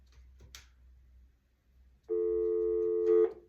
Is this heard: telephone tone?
yes